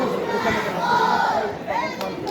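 A crowd mills about at the Chinar Book Festival, a dense, loud mix of many overlapping voices with some raised, shouting tones rising above the general murmur.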